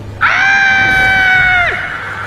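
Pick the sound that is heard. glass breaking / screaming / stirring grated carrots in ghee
screaming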